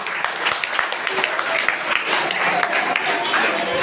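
Applause from students at a school AI program for ninth graders, a continuous, moderately loud wash of clapping with faint crowd noise underneath.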